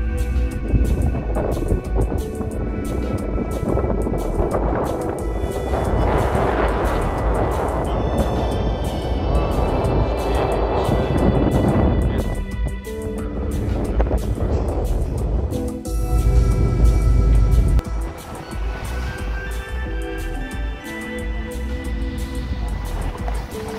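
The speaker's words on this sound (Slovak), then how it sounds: "A už naša loďka zatáča na otvorené more." A motorboat turns out toward the open sea on the crossing from Gili Trawangan via Lombok, its engine droning loud and steady under heavy wind and water rush, the hum and rumble swelling and dipping over the whole run.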